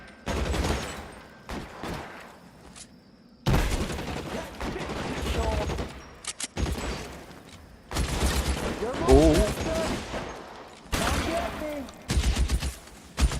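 Gunshots in the 1940s Los Angeles crime game L.A. Noire, repeated bursts of loud shots in a firefight, broken by brief lulls, with game voices talking over parts of it.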